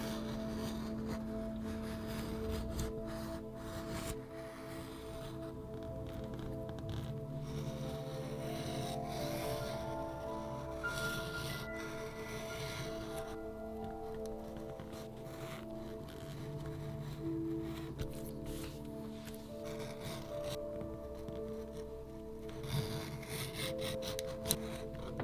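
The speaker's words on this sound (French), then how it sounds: "Et je découpe le reste au cutter." A utility knife slices through leather for a card holder and smartphone case, giving a faint, steady scraping and rasping that runs continuously with no talk.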